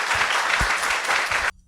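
Audience applause greets a guest speaker at a lecture event on anarchism and autonomism: dense, steady clapping from a crowd that runs evenly for about a second and a half, then cuts off abruptly into silence.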